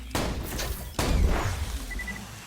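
Shotgun blasts in the Borderlands video game: two loud, close booms about a second apart, each with a rumbling tail and echo, followed by a faint beeping tone.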